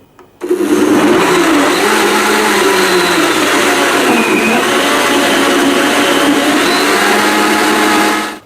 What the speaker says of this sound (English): Now blend this for 30 to 45 seconds on high.